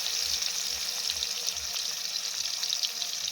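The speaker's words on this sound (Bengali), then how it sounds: "পেঁয়াজটা দিয়ে হালকা নাড়াচাড়া করে লাল লাল করে ভেজে নেব।" Chopped onions fry in hot oil while being stirred, giving a continuous bright sizzle with faint soft stirring bumps underneath, no talking.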